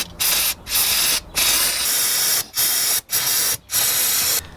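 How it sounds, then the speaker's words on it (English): A can of brake cleaner sprays in six or seven short, loud hissing bursts with brief gaps between them, close up while a valve cover gasket is being replaced on a Lexus GX470 4.7L engine. "I sprayed down the sides with brake cleaner"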